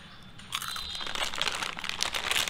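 Close crunching of Akbare Sticks, a hard Nepali fried snack, as they are bitten and chewed, with a run of crisp, crackly bursts and no talking.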